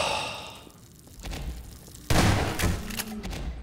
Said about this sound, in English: Oh, they're on fire and they're exploding!